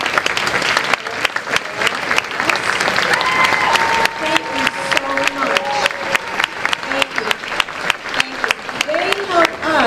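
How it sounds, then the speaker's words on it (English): A room full of people at a school orchestra concert claps steadily for about ten seconds, with scattered voices and cheers mixed into the applause. "Please stand so we can applaud."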